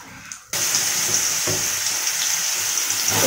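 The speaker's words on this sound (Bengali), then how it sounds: "এবার আমি লাউটা দিয়ে দেবো।" Bottle gourd drops into hot oil tempered with radhuni and bay leaf, setting off a loud, steady sizzle after a quiet start, with a few soft stirring clatters near and close.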